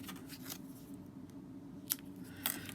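Quiet, crisp snips of scissors trimming a short tail on an Adirondack chair craft, a couple of brief cuts standing out against a soft background hum.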